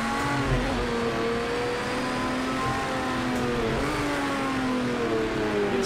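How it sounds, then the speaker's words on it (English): Porsche 917 race car engine in Project CARS 2 at Le Mans during a thunderstorm, a steady high-revving drone with shifting pitch that persists throughout at moderate volume. "And I hear that 917 behind me."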